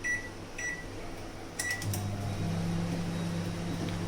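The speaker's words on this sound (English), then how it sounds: "Now let's put it in the oven. Now let's bake it for 20 minutes." An oven is switched on to bake apple crumble at 180 degrees, with a few short beeps followed by a steady low electric hum from the running appliance, close and moderate in loudness.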